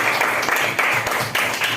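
Schoolchildren in a classroom clap together in a short, busy round of applause with a few stronger rhythmic surges, lasting under two seconds.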